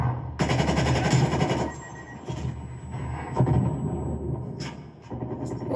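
Pistol gunfire in the Call of Duty Cold War video game, bursts of rapid loud shots with sharp cracks and rumbling between them, repeating over several seconds.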